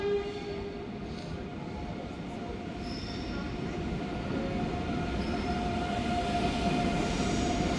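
An ICE train running on rails toward Arnhem gives a steady, loud rolling rumble with a faint high squeal throughout, heard from inside with no talk.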